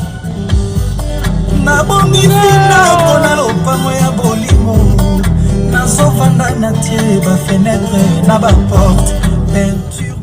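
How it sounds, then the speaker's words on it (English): Loud music with a thumping bass line and melodic tones plays steadily through a Bose audio system in a Nissan Skyline Crossover, full and continuous with no talking. "a thumping audio system courtesy of Bose that sounds like this"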